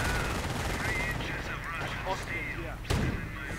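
Machine-gun fire from an MG42 in a World War II strategy video game, dense, continuous battle noise with rapid bursts and thuds, a louder report near the end, mixed under a caster's voice.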